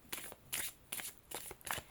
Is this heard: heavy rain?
no